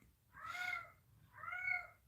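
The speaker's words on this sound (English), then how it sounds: "my cat is going crazy" A house cat meows twice indoors, two drawn-out, fairly loud calls about a second apart over a quiet background, with no speech.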